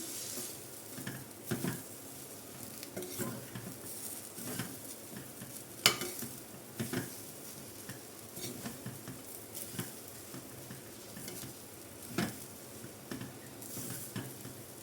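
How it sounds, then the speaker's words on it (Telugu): A spoon stirs and scrapes a churma mixture around a pan over a faint sizzle, with soft, irregular clinks and strokes repeating close by and no talking. "ఒకసారి మొత్తం కూడా కింద నుంచి పైకి అంతా కూడా కలిపేసుకొని"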